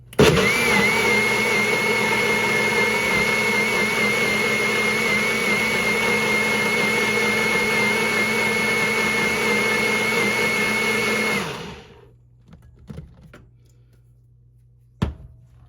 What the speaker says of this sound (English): then I'll give it one more blend and it should be good.